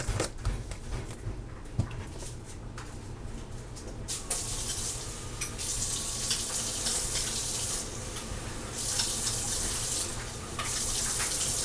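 Water runs steadily into a pot to make beef broth, a continuous splashing stream that grows brighter and fuller partway through, heard close with no talking.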